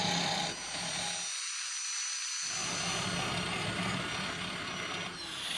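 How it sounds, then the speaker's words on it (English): A 120-grit flap disc grinds the bevels of a Damascus steel blade made from drill bits, a continuous harsh whirring rasp with a steady power-tool drone for several seconds. "Flap disc, 120 grit, to blend the bevels into the flats."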